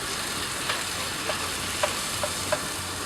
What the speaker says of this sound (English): just when your egg looks like it's starting to cook real good, you're gonna throw in your garlic